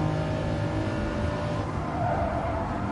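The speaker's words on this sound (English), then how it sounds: "Because the Porsche just now is a rear engine, so I could hear it really clear" A rear-engine Porsche races in Gran Turismo Sport, its engine a steady, close droning roar held at constant revs throughout, with no voices over it.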